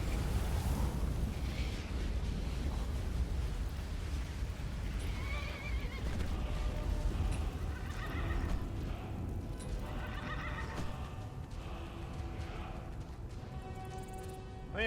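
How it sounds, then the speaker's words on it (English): A wild horse in Skyrim neighs and whinnies repeatedly over a steady bed of game ambience, with hoof clip-clops mixed in, loud and close throughout. "Can I mount this wild horse?"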